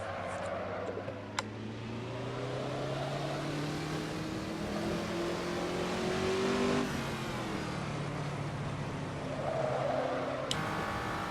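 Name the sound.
race car engine revving in Assetto Corsa video game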